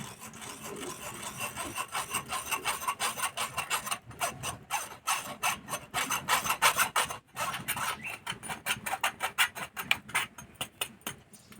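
Ground rice batter for homemade rice papad is pushed through a kitchen sieve, making steady rhythmic rasping and scraping strokes close up, with no talk.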